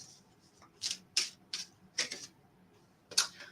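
Angel answer oracle cards being handled give a string of crisp, close snaps and flicks, about six distinct bursts at uneven intervals in a quiet room.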